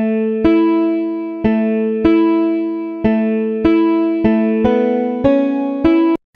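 Dry, unprocessed electric guitar preset from the Nexus Guitar Expansion Pack, notes plucked one at a time in a slow, even pattern, each ringing clearly and decaying before the next.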